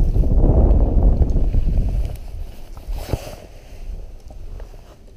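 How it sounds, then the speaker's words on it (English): Wind gusting past an open fishing boat during pre-ice season, a loud low rumbling buffet strongest at first, then easing to a steadier roar with a brief splash or knock midway. "If I wasn't tied to a tree today, this wind would make it impossible."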